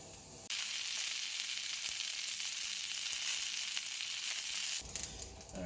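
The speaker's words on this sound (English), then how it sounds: "Got my water boiling. I want to take these dough balls one at a time, put it in the slotted spoon, give it a dump." Pretzel bun dough balls drop into a pot of boiling water, setting off a steady bright hiss and bubbling that holds for several seconds and then cuts off abruptly into quieter clatter.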